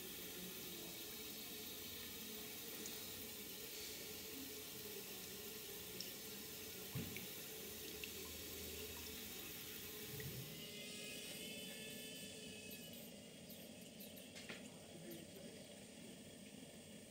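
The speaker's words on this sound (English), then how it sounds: "The injector is injecting, so you should see the gauge glass water level rise." A miniature steam locomotive's injector forcing water into the boiler gives a continuous rushing, hissing water sound, very faint and steady for the whole stretch, with a slight shift in tone partway through.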